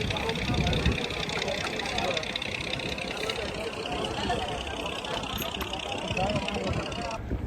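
A boat engine idles steadily at a Mumbai jetty while passengers wait to board for the Pagoda, a continuous low rumble filling the whole scene with crowd chatter mixed in.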